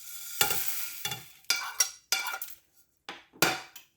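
Spices tossed into hot ghee in a pan for Mangalorean ghee roast chicken, heard as a series of sharp bursts of sizzling and stirring with a metal utensil scraping the pan, separated by short quiet gaps.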